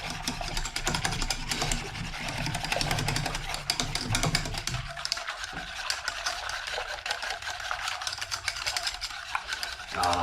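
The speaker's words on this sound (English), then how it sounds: "Whisk that all together." A whisk stirring sweet and sour sauce ingredients with pineapple and orange juice, a steady close swishing and rattling in a bowl that runs continuously with no talking.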